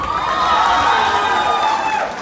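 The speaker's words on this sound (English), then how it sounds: "Give her a round of applause." Audience at a college graduation day ceremony applauding and cheering after a speech, a dense, sustained wash of clapping and crowd noise with a few shouts, fairly loud, fading slightly at the end.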